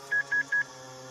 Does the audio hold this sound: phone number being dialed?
yes